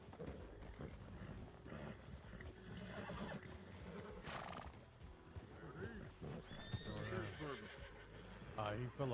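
In a video game, a horse whinnies and its hooves clip-clop as a rider falls off, the neighs rising in short bursts under and between people talking, all fairly quiet.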